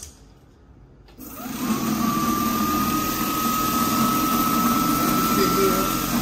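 An INOKIM OX electric scooter's motor spins up after a quiet start and holds a steady high-pitched whine at speed, loud and continuous, with a rising tone that levels off.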